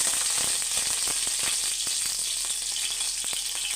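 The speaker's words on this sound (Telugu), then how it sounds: "నూనె కాగాక మనం ఉల్లిపాయ ఫ్రై చేసుకుందాం" Chopped onion with curry leaves frying in hot oil, a dense, steady sizzle with a scatter of sharp crackles and pops throughout, close and fairly loud with no talk.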